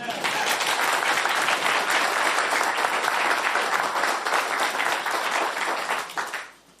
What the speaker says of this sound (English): I was waiting for the applause to come down there